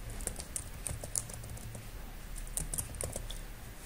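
Typing text into AutoCAD 2021 on a computer keyboard: quick, light key clicks in irregular bursts, close but fairly quiet, with no talking.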